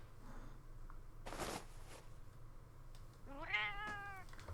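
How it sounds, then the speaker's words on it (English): A cat meows once in the video game Arknights, a single faint drawn-out meow at the end, preceded by a brief soft rushing whoosh in quiet surroundings. "My own cat is here."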